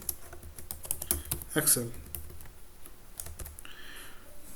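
Someone types on a computer keyboard at close range in short bursts of quick clicking keystrokes, while someone talks over it.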